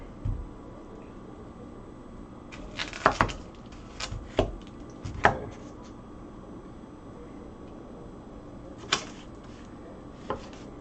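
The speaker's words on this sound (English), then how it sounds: "with onions, you don't have to cut them super like thin like all the other stuff" Onions chopped with a knife on a cutting board, a handful of sharp close cuts in short irregular bursts separated by quiet pauses, with no talking.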